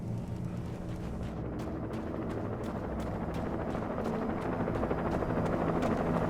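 A helicopter in the Alan Wake video game thrums steadily with fast rotor chop, a continuous loud drone that holds from start to finish without pause.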